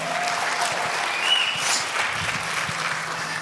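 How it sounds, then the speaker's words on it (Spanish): Church congregation applauding the worship team, a sustained wash of many people clapping that stays even and full from start to finish, with no speech over it. "Give it up for the worship team. Un aplauso al equipo de alabanza."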